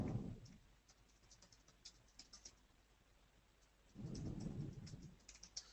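Quiet clicking of computer keyboard keys, with two short bursts of fast typing separated by a near-silent pause, recorded close and faint.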